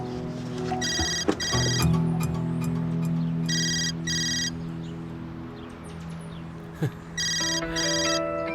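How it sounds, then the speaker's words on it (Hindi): A mobile phone ringtone plays in repeated bursts of bright electronic chimes, with pauses between the rings, over a soft background hum and a few brief knocks, with no talking. "फोन क्यों नहीं उठा रही?"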